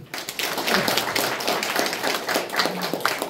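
An audience applauds a professor being introduced on stage at a lecture hall event, a steady, dense patter of many hands clapping close by, sustained without a break and with no talk over it.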